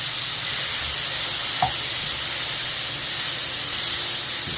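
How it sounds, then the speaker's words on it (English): Water steaming on a hot flat top griddle during cleaning, a loud continuous broadband hiss and sizzle that holds steady throughout with a brief scrape partway through. "We're going to dump this on here, and then we're going to use this and the steam from the heat to clean this."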